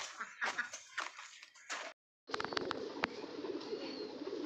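Pigeons in a loft coo and flutter nearby in bursts, a brief silence, then a steady busy stretch of bird sounds.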